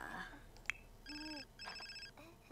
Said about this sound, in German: Bei wem geht Telefon?